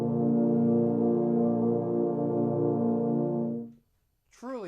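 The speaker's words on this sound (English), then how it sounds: "when the euphoniums play a chord together, they sound just like this." Several euphoniums sound a sustained chord together, a rich warm brass tone held steadily for nearly four seconds before stopping. A voice speaks briefly just after.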